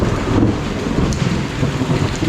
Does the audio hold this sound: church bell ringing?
no